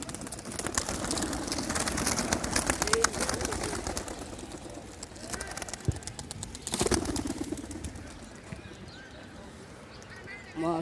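A cage of tournament racing pigeons is released, wings flapping in bursts with soft cooing amid steady background noise and voices.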